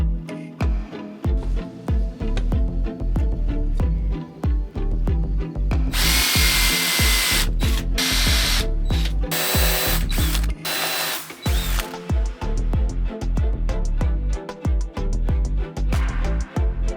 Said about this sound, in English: I just need to do all the pre-drilling and fasten them in.